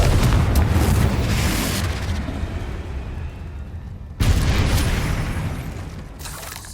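Confringo fire-blasting spells explode in Hogwarts Legacy as two heavy booms, the first rolling off slowly and the second hitting sharply a few seconds later, both loud and close.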